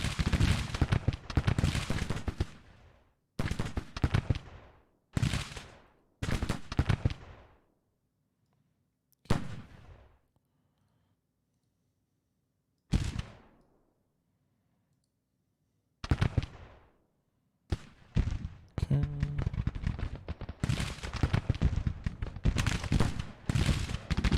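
Sharp gunfire bursts from skirmishers in the Grand Tactician: The Civil War game, arriving in irregular clusters of cracks separated by quiet gaps, with a faint low hum beneath.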